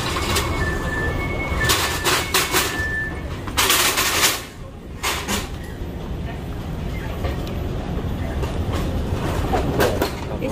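A rail train, an MRT or LRT, rolls along its tracks with a steady, loud rumble and clatter, broken by a few sharp bursts and a faint tonal whine near the start.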